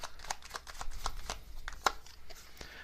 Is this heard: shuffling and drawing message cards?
yes